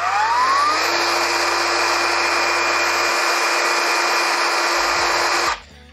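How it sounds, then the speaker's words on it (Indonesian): Ryu RCCS185 cordless brushless circular saw motor spinning up gently from a soft start, its steady whine rising in pitch before running loud and even for several seconds, then cutting off abruptly, with no talking. "fitur yang paling saya sukai dari Circular Saw ini adalah dia tidak langsung kencang ya apabila"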